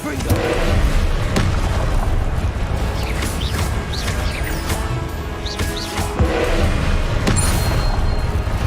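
Wizarding video game combat as levitation, shield and blasting spells are cast: a dense, loud wash of booms, crashes and magical whooshes with chirpy effects and spoken voices mixed in, continuous throughout.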